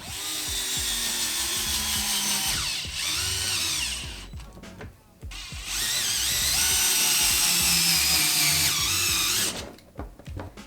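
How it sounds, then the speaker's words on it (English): An electric screw gun drives screws into the plastic bell crank brackets of a KV5TT kit, with long, loud, close high-pitched whirring runs whose pitch rises and falls, broken by brief pauses. "We're going to use our electronic gun and make it a little bit easier."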